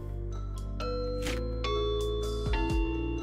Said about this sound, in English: I crossed the threshold of her porch and pressed down the glossy Evolve doorbell.